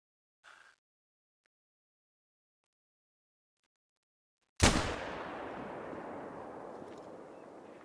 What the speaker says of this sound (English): this time I'm going to use my rifle